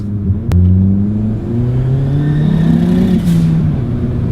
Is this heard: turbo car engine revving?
yes